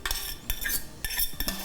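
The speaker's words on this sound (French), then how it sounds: "je vais mettre tout comme versé dedans" Metal utensils clink and scrape against a dish as macaroni is poured and spread in, short bright clatters in a few quick bursts, close and fairly loud with no talking.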